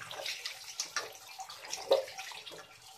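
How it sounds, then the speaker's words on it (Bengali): Cut raw jackfruit pieces being washed in a bowl of water, soft sloshing and splashing with small irregular bursts, close and fairly quiet, no speech. "এবার একটু ভালোভাবে ধুয়ে নিতে হবে, এমনভাবে ধুতে হবে যেন একটু আঠা না থাকে।"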